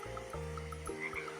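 A cartoon frog in a children's story croaks in deep, sustained low tones, two long croaks in a row followed by a short third, set against light background music.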